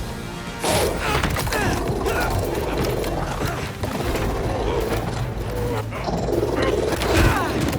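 A robot dog in the video game Marvel's Spider-Man 2 growls amid a loud, busy combat mix of crashes and mechanical thuds, with voices talking over it.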